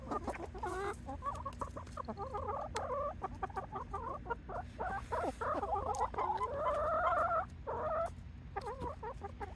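Backyard hens cluck and murmur in a steady run of short calls, with a few longer rising notes, fairly close but soft, with no talk over them.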